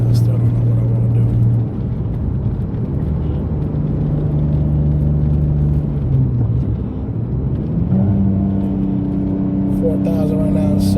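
Mitsubishi 3000GT SOHC exhaust heard from inside while driving, a loud steady low drone that dips and shifts pitch as the engine changes speed, with no talking over it.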